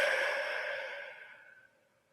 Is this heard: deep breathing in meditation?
yes